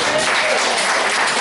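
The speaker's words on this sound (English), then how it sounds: "Round of applause." Guests break into brief, dense applause at a Jewish ketubah signing led by a cantor, a short burst of many hands clapping close by.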